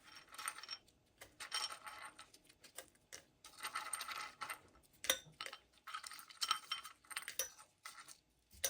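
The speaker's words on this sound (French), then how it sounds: "je mets la menthe et j'y rajoute le sucre" Sugar cubes are dropped one after another onto fresh mint leaves in a metal teapot, giving a series of light clinks and knocks in uneven bursts, quiet and close with no talking.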